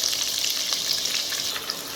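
Chopped onion sizzles in hot oil in a wok, a dense, steady crackling fry at close range with faint stirring scrapes and no talking.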